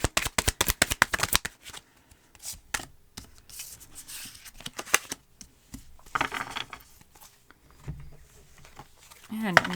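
Tarot cards being shuffled, handled and drawn, with a quick burst of crisp riffling snaps up front, then scattered softer slides, taps and flicks of card stock; a voice speaks intermittently over the handling.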